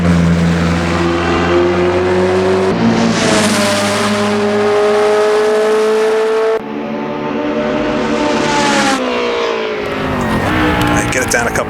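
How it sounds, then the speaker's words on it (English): A Matra sports car with a BRM V8 engine racing in Assetto Corsa, the engine revving loud and high with rising pitch through the gears and abrupt gear-change breaks, while someone talks over it. "I was worried when I saw that this had the BRM V8 engine in it and not the V10."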